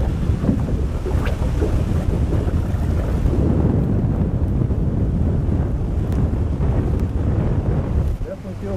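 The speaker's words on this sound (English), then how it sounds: "The wind seems like coming up this chute a little." Wind blowing up a chute buffets a boat on open water. A steady, low, rumbling roar of wind on the microphone runs continuously, with the boat's motion beneath it.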